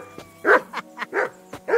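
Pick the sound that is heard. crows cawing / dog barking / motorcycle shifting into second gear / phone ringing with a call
dog barking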